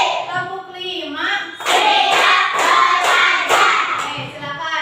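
A classroom of pupils claps hands in a counted pattern, a burst of several sharp, fairly loud claps in quick succession, preceded by a voice.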